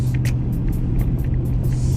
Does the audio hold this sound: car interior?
yes